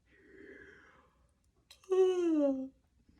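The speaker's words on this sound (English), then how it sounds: "And again, a yawn." A single drawn-out yawn, starting with a breathy inhale and ending in a loud, descending voiced groan, close to the listener.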